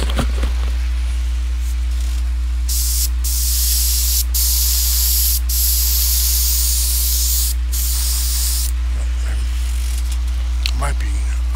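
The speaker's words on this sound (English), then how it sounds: "I need to airbrush detail into this before I forget" An airbrush spraying paint in long steady hissing bursts, starting and stopping several times, close and loud over a constant low hum, with a voice speaking at times.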